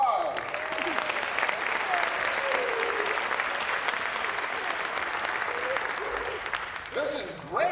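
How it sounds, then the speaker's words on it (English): An audience at a magic show breaks into steady, sustained applause for a volunteer, loud and continuous, fading near the end, with a voice speaking over it. "give her a big round of applause."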